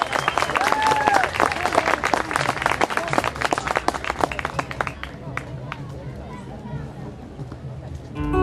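Audience applauding the winners of an Argentine dance contest at a national radio station's anniversary event, with dense clapping loud through the first half, then thinning and fading toward the end.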